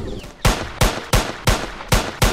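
Six sharp, evenly spaced gunshots fired one after another in a Roblox Fortnite tycoon game, each a loud close crack with a short tail, heard with no talk over them.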